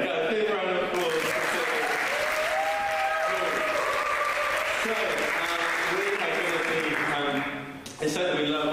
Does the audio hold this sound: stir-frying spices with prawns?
no